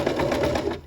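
A sewing machine edge stitches along a skirt seam at a slow, steady pace, its continuous mechanical whir pulsing in even repeated stitches, close and clear with no voices.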